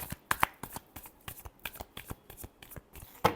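Tarot cards riffle through a shuffle in quick dry bursts of flicking paper, with a few sharper snaps standing out, close up and fairly quiet with no voices.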